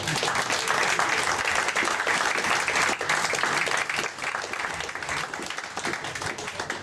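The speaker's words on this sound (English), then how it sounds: "we should have a big applause for him, please" Loud, dense audience applause for a bass player at a music history event in Chapel Hill, sustained throughout before easing slightly toward the end.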